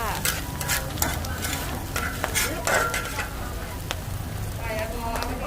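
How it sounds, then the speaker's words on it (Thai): Flattened rice (khao mao) with pandan leaves fries in a large batch of oil at a busy Thai snack stall, a loud sizzle broken by repeated scraping and clinking stir strokes. "คือว่าเอาข้าว เม่านะคะ ไปทอดด้วยแล้วก็มีใบเตยด้วยค่ะ"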